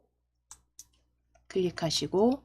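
A few sharp, faint single clicks of a computer mouse on a menu button, spaced apart in a quiet room, followed by a person speaking.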